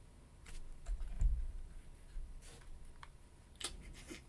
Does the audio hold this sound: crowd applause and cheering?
no